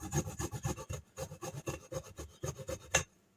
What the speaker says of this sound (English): So, you want to use a microplane